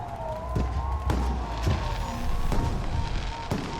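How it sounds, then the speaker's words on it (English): Fireworks explode in the video game Alpha Protocol, a handful of sharp, well-spaced bangs over a steady, siren-like tone and a continuous low rumble. "The noise from those fireworks should cover the sound of gunfire."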